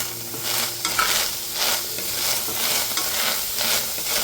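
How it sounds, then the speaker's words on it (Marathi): A coarse spice masala of coriander powder and dried curry leaves dry-roasting in a pan, heard as a steady close crackle with rhythmic scraping strokes of the spoon repeating every second or so. "चांगला चटका येऊपर्यंत आपण याला भाजून घेतला"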